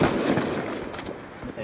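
Rapid automatic gunfire from a first-person shooter video game, dense and loud throughout, with players talking over it.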